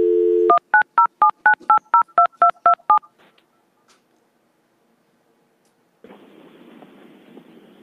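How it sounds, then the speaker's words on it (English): A telephone is dialed to call an attorney during a city council meeting, a brief dial tone then a rapid string of about ten keypad tones, followed by quiet and faint line noise. "We're going to take just a minute so she can call the attorney."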